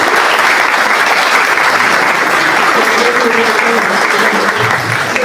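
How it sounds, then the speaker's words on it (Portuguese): Audience applause welcoming a guest speaker at a lecture, loud, dense and continuous clapping from a crowd that fills the whole stretch, with faint voices rising beneath it near the end. "Uma salva de palmas."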